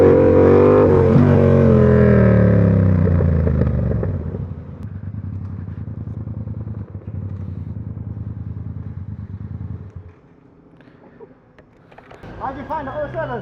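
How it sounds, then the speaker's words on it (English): Yamaha MT-07 motorcycle revving hard in a wheelie on London streets, a loud, rising engine roar for about four seconds that eases into a steadier, quieter run, dips briefly, then picks up again. "it's always so scary when someone else wheelies your bike"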